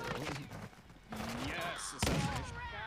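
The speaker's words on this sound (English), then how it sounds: "My sentry turret is doing some work." Sentry turret fire in Call of Duty Modern Warfare II, a burst of bright, crackling impacts in a fast multiplayer match, with a sharp loud report near the end and a voice talking over the action.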